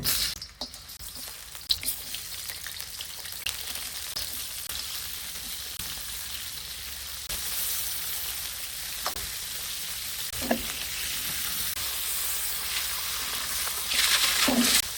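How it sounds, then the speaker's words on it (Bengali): Crabs frying in half a cup of hot soybean oil in a wok, a continuous, fairly soft sizzle with occasional small pops and crackles that grows slightly louder near the end. "তেলটা গরম হয়ে গেলে আমি কাঁকড়াগুলো দিয়ে দিচ্ছি"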